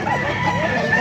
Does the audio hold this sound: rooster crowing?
yes